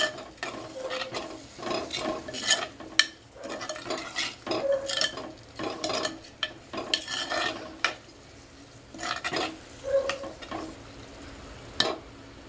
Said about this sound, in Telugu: ఇప్పుడు దీన్ని కలుపుకుందాము